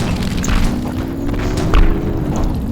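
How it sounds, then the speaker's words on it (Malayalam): A heavy thud and crashing boom from a vehicle tumbling over in a game, over a steady engine drone. "അയ്യോ കാർ മറിഞ്ഞു"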